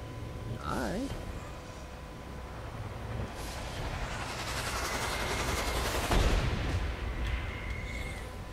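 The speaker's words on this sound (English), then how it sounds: "I hate the missiles." Missiles launch and explode in Saints Row: Gat out of Hell, a dense rumbling barrage of blasts and whooshes that builds to a loud burst near the end, with a brief voice at the start.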